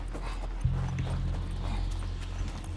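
Horse hooves clip-clopping in The Last of Us, a soft steady patter of hoofbeats beneath a low droning game soundtrack, with no talking.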